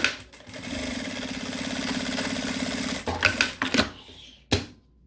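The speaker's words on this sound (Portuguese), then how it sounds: "Vou passar aqui uma costurinha com um pezinho de máquina." A sewing machine runs a steady fast stitch for about three seconds along the bottom finishing of a zippered accordion wallet, then stops with a few short bursts and clicks.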